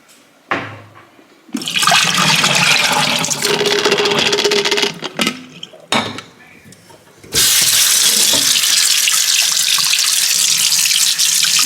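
Tap water runs loudly into a deep farmhouse-style kitchen sink, starting and stopping in several bursts before a steady, full gush fills the last few seconds, with no talk over it.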